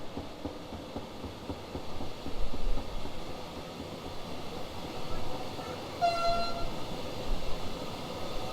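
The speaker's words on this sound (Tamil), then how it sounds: "கிட்டத்தட்ட எவ்வளோ லாங்கான ஒரு கூட்ஸ் ட்ரெயின் பாருங்கள்." A long goods train rolls past in the Train Sim World 4 video game, with a continuous rumble of wagons that swells and eases, and a short horn blast partway through.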